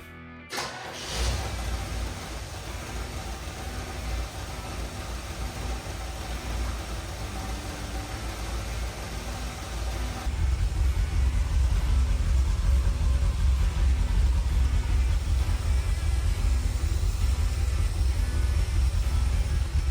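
An abandoned Corvette's engine catches after a short crank and settles into a steady, dense rumble, which steps up louder about halfway through and holds there with no talking.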